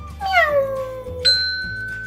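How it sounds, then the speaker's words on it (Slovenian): A cartoon cat in a kids' puzzle game lets out one clear, loud meow, followed by a bright chime-like ding, both close and alone. "in že imamo mucka"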